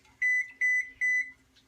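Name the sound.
oven beeping when preheated to 400 degrees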